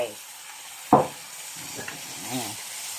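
Basil beef stir-fry sizzles steadily in a hot pan, with one sharp scrape of the spatula and softer stirring sounds under a faint steady hiss.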